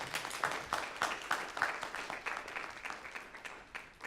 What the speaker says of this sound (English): Let's clap. Yay!